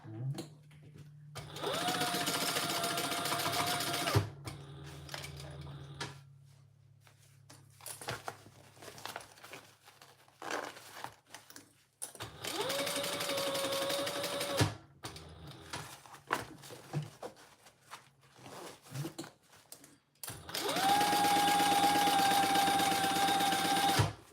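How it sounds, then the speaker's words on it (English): An industrial sewing machine stitches a zipper seam at full seam allowance in bursts, loud steady whirring runs of a few seconds each separated by quieter pauses with handling clatter, the last run the longest. "So let's sew that on at the full seam allowance."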